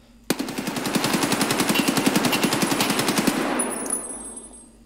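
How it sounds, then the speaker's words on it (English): An AK-74U fires full auto in Escape from Tarkov, one continuous rapid burst of evenly spaced loud cracks lasting about three seconds, then fading into a ringing tail. "So we'll go full auto, mid-range,"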